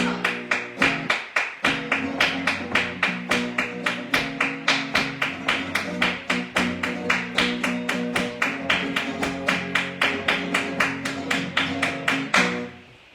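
Flamenco palmas claras, crisp fast claps struck with the fingertips on the palm, in a steady even run of sharp close strikes lasting over twelve seconds, with no talking.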